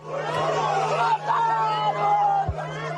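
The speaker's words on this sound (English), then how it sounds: "People heard crying out in anguish they killed him" A crowd at a campaign event in Bogotá cries out in anguish after a shooting, with overlapping distressed yells and wails forming a tense, agitated babble close by.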